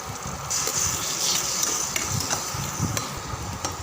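Curry leaves and ginger garlic paste fry in hot oil for a potato and corn gravy, giving a steady, close sizzle with a few soft stirring clicks and no talk.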